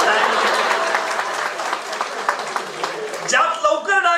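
Audience applause at a Marathi speech event, a steady wash of clapping for about three seconds that fades as a voice begins speaking over it.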